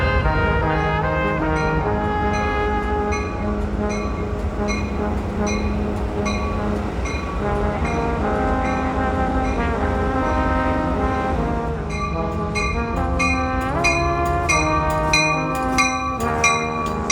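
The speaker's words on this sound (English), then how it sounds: "Finally, Train 4 would depart LA Union Station on time," Amtrak Train 4 departs LA Union Station bound for Chicago with a loud, steady rumble of railcars, while a horn or bell sounds in repeated pulses over the noise near the end.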